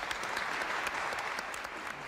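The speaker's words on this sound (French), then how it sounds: "si vous voulez bien l'applaudir." A church congregation applauding a new member at a baptism, a short burst of many hands clapping together in a reverberant room, fairly quiet and steady with no speech over it.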